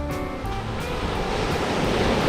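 Sea waves wash steadily onto the beach at Chao Mae Chetsada Rachathan camp in Sattahip, Chonburi, with a continuous loud surf roar and some wind noise as someone walks along the shore.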